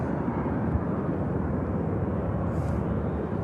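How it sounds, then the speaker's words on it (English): A Qatar Airways Boeing 777 heavy jet departs from Manchester Airport, a loud, steady broadband engine roar that fills the short stretch without a break. "Two awesome heavy departures. Qatar triple."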